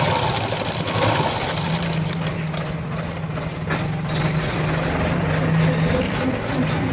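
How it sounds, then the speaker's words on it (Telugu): Electric sewing machine running steadily while stitching a blouse, a continuous near mechanical whir with a low hum and fast rhythmic needle chatter, no voices. "ఇలా హోల్డ్ చేసేసి కుట్టేసేయండి."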